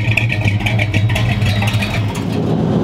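A 1970 Dodge Charger's engine rumbles steadily nearby as the car idles and starts to pull away, its low drone loud and continuous with slight revving throughout.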